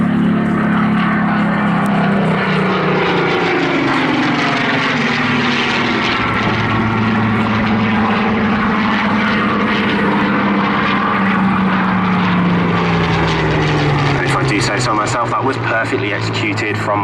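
Hawker Hurricane propeller fighter at an airshow, its piston engine droning loudly and steadily with a pitch that slowly falls as it passes, an announcer talking over it throughout.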